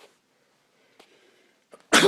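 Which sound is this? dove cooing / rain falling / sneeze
sneeze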